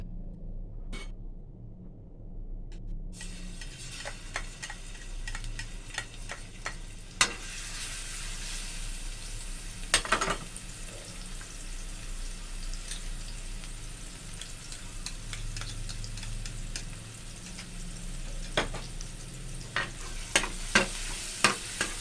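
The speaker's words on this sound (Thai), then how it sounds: "ขั้นตอนแรกก็เจียวกระเทียม" Garlic frying in oil in a pan for a water mimosa salad, a soft steady sizzle with scattered spatula taps and scrapes, faint at first and continuing throughout without talk.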